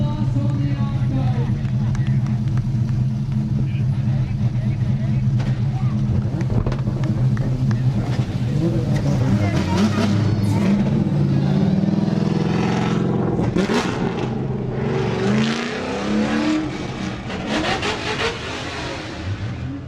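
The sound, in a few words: car driving on the racetrack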